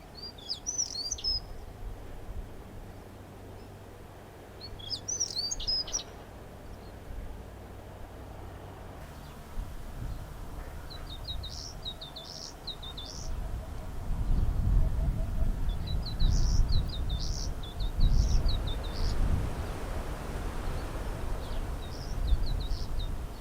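Fuerteventura chats give short, scratchy chattering calls in bursts, several separate phrases spread across open countryside, fairly distant, over a low rumble of wind or passing traffic.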